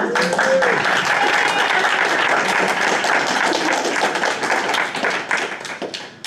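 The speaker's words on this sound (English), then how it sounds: "We have to at least get a round of applause for Erin" Audience at a Libertarian Party of Colorado fundraiser event applauds, a dense wash of clapping that holds steady, then thins and tapers off toward the end, with some voices mixed in.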